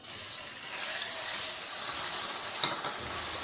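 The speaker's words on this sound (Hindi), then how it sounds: "एक कढ़ाई में मैंने 1/4 कप ऑयल शामिल कर दिया है और 1 कप मैं बोनलेस चिकन इसमें शामिल कर रही हूँ" Boneless chicken frying in oil in a kadai, a steady bright sizzle that runs the whole time, close and even, with a brief clink of stirring near the end.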